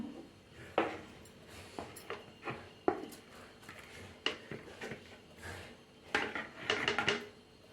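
Pressure-cooked drumstick leaves for a chicken keema dish are drained from a cooker, giving scattered metallic clanks and scrapes of pot and utensils at uneven intervals, moderately close and fairly quiet.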